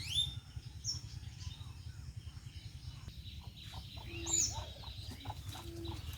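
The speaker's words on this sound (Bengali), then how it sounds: "মুরগির ছানাগুলি কোথায় বসেছিল" Chickens and chicks beside a rural house, with repeated clucking and high chick peeps over a rhythmic low background hum, a few calls close and loud.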